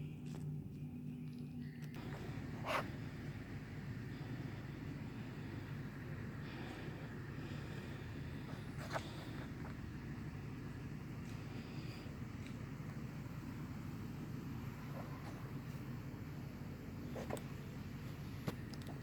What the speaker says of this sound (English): We have big negative machine.